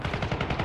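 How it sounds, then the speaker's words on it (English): Rapid automatic gunfire in the Syndicate video game, a brief, loud, close burst of evenly spaced shots with no voices. "Stop shooting me."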